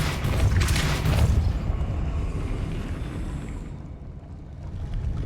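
Depulso spell cast in Hogwarts Legacy: a heavy booming blast with a broad rumbling whoosh that swells early and slowly fades over a few seconds, with no talk.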